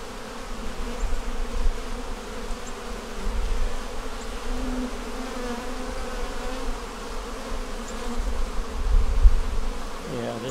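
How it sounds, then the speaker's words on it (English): Many honey bees buzz around hive frames in a dense, continuous drone that swells and fades slightly, close by, with faint handling bumps near the end and no talking. "Got a lot of bees"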